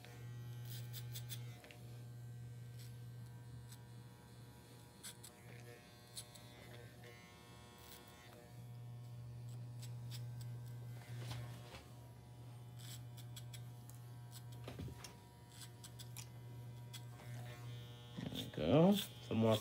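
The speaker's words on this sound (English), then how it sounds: "Some more clipper over comb here." Electric hair clippers cutting hair with the clipper-over-comb technique during a men's haircut, a close steady low buzz running almost throughout with brief pauses, soft snips and handling sounds, and a voice talking over it.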